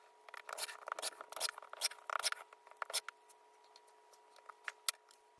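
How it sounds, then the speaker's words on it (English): Skinny fabric strips for a quilt are cut, making quiet, close, irregular snipping and slicing sounds in short clusters over a faint steady hum. "So we're gonna cut those skinny strips now."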